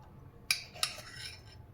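A couple of sharp metal spoon clinks against a glass or bowl as powdered sugar goes into watermelon mint juice, two close bright taps over a quiet background.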